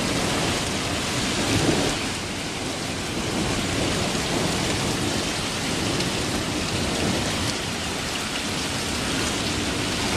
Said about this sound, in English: this is almost like one big loud thunderclap that just does not stop